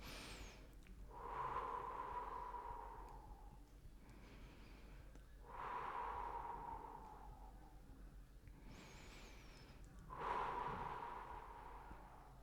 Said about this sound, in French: 3 respirations de face.